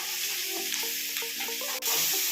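Onions fry in a pan with turmeric and salt while being stirred, a brief close sizzle with scraping strokes over a background of faint tonal sound.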